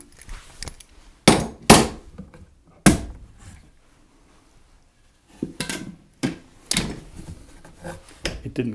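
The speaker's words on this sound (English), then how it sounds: "I can take off our quick grips clamps here" Quick grip clamps are released and pulled off a deck under construction, giving sharp clacks and clattering knocks in two clusters separated by a quiet gap, close and fairly loud.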